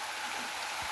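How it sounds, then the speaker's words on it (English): Rain falls steadily, a soft, even hiss of drops close by with no voices, lasting under a second. "It's raining."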